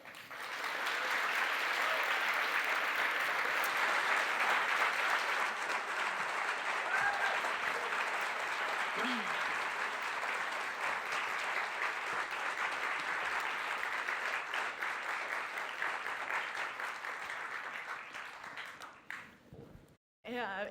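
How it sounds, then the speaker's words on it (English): Long, steady applause from an audience at a photography talk, dense clapping sustained at even loudness for about twenty seconds before tapering off abruptly. "give another round of applause to our Uncle Mark here"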